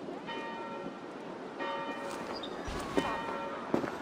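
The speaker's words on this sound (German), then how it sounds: "Hörst du nicht die Glocken?" Church bells ringing in Assassin's Creed Valhalla: sustained, overlapping bell tones resound steadily across the whole span, fairly loud, with a few faint clattering sounds and no speech.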